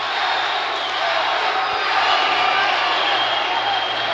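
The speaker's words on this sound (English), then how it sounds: "You hear the crowd?" Dense, steady roar of a large crowd cheering and yelling at an MMA title fight, loud and sustained throughout with whoops rising above the noise.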